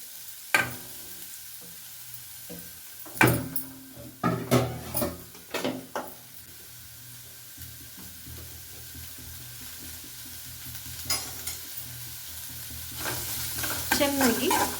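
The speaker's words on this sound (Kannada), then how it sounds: "ಈ ಥರ ಫ್ರೈ ಮಾಡ್ಕೊಳ್ಳೋಣ" Onions frying in a pan for seasoned dosa batter, a steady close sizzle with repeated spatula scrapes and knocks against the pan, louder stirring bursts near the start and end, no voices.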